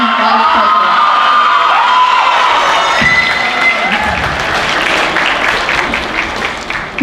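Audience applause fills a high school spring concert hall for the music department seniors, broad steady clapping with some cheering and whoops throughout, loud and continuous.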